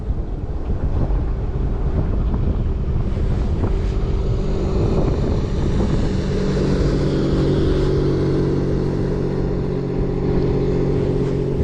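A boat passes by on the water during a fishing outing, its motor drone building and steadying over several seconds beneath heavy wind buffeting the microphone.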